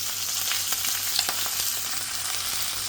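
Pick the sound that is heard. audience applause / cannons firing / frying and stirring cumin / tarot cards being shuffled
frying and stirring cumin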